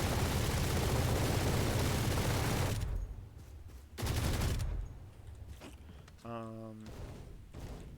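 Rapid gunfire in Valorant fired through a wall into the garage on the Haven map, loud dense bursts for the first three seconds, a second burst around four seconds, then quieter scattered game sounds.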